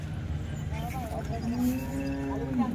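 Cattle, including bullocks, moo loudly with one long low call over steady background noise at an outdoor livestock gathering.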